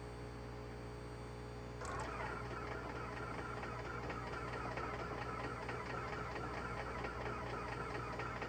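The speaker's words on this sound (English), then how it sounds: "That engine does not want to start." Aircraft engine cranking and struggling to start in the MSFS 2024 flight simulator on low battery voltage: a steady electrical hum, then at about two seconds a denser rattling, grinding engine-like drone that continues evenly to the end.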